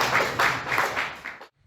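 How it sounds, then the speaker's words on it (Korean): A church congregation at a Korean worship service breaks into a short round of applause, dense and moderately loud with a few pulsing swells, then cuts off abruptly into near silence. "하나님께 영광의 박수 올려드립니다."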